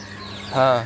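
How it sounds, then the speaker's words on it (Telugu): Backyard hens at a rural Telugu home give a single short, close cluck that rises out of faint background talk and quickly trails off. "ఇది మా కోళ్ళు అండి"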